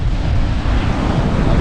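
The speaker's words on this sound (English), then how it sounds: "Still very windy." Strong, steady wind roars and buffets across the microphone on the Dorset Jurassic Coast, a loud continuous low rumble with no break and no speech.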